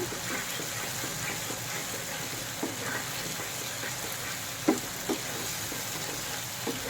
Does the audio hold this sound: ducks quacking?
no